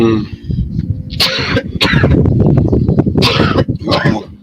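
Several harsh, explosive coughs in quick succession, loud and close, with a low rumbling background between the bursts.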